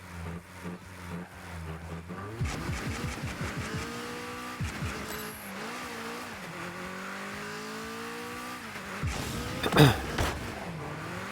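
Car engines in Rocket League rev and whine continuously, with rising and falling pitch sweeps as cars accelerate, a brief tire squeal and a louder burst near the end, all fairly close and without speech.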